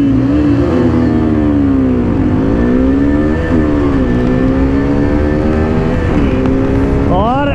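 A KTM Adventure 250 and a Royal Enfield Himalayan drag race side by side, their engines loud and close as the revs climb repeatedly in rising sweeps through gear changes.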